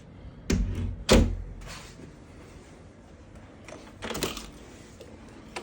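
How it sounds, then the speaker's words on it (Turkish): A door in a house for sale in Germantown, Tennessee opens with a couple of sharp clunks of the latch and handle near the start, then a quieter rattle and knock a few seconds later, against a faint room hum. "Bir kapı da açılıyor."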